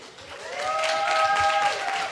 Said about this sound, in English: so round of applause to Irene